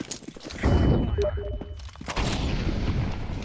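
A thrown flashbang grenade in Counter-Strike 2 amid match gunfire, a loud booming burst followed by rumbling shots and clatter, up close with continuous game noise around it.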